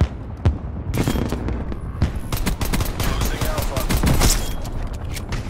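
Rapid 1911 pistol gunshots in Black Ops Cold War, a run of sharp close cracks and booms with intermittent louder reports under a steady game background.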